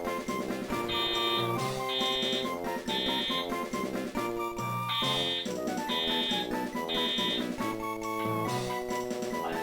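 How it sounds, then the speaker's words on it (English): A false fire alarm beeps in a repeating pattern of tones, heard under loud, dense music that plays throughout. "The false alarm fire alarm."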